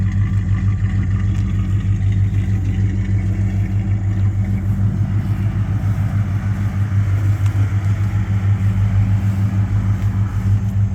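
Rebuilt AMC 401 V8 in a 1987 Jeep Grand Wagoneer running at a steady idle, heard close from behind the vehicle as a smooth, constant low throb with even pulses and no voices.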